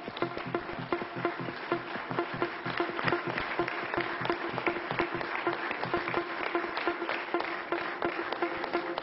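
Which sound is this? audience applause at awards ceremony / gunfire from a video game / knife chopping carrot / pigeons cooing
audience applause at awards ceremony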